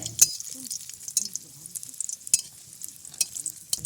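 Dried red chillies and crushed garlic fry in hot oil in a wok, giving a soft continuous sizzle with scattered stirring scrapes and a few sharp ticks, close and moderately loud.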